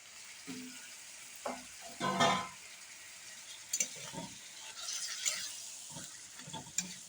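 Tomatoes fry quietly in a pan for a desi egg curry, with a low sizzle under intermittent spoon scrapes and clatters, close and fairly soft.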